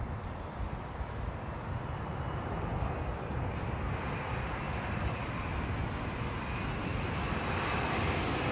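Heavy jet airliner on approach to London Heathrow, a broad continuous rumble and roar that swells slightly as it nears, with no voices.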